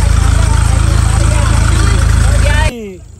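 A tractor engine drives a village tube well pump, chugging loudly and steadily at close range with a rhythmic idle thrum, then cutting off abruptly near the end.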